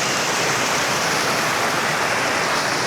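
Constant rushing water from a waterfall and river at a private riverside resort in Cavite, loud and close, a dense unbroken roar of flow with no voices over it.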